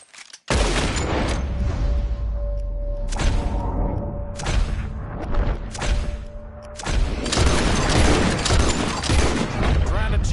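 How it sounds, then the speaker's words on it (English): Gunshots ring out in a Red Dead video game shootout duel, a burst of sharp, loud reports with several more shots following in quick irregular succession, mixed with game sounds and occasional talk. "As soon as you see him, start shooting."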